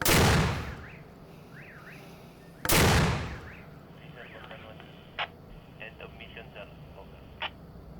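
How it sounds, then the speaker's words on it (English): Two loud, booming mortar launches from a military position in an embattled city, a few seconds apart, each with a sharp blast and decaying rumble, followed by faint radio chatter and beeps. "they're just about to send this mortar into enemy territory"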